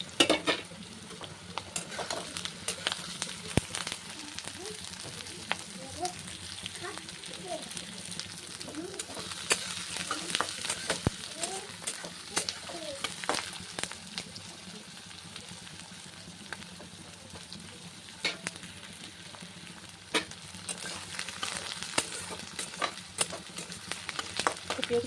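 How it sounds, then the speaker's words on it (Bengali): Onions frying in a pan with raisins and green chilli added, a steady sizzle with repeated scraping stir strokes throughout, close and moderately loud, with faint background sounds and no talk. "পেঁয়াজগুলো এখানে আমার সুন্দর করে ভাজা হয়ে গেছে। এখন এর মধ্যে আমি এই কিশমিশগুলো আর লঙ্কাটা অ্যাড করে দেবো।"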